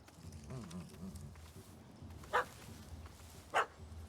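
Dog barking in The Witcher 3, two sharp separate barks a little over a second apart, set against a low steady game background with some faint murmuring early on.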